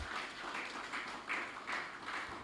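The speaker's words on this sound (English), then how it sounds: "So let's give him a round of applause." An awards ceremony crowd at a cricket club presentation applauds, a soft, distant wash of clapping that swells in a few gentle waves.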